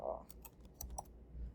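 Faint, quick clicks of typing on a computer keyboard, a few scattered keystrokes in a quiet room.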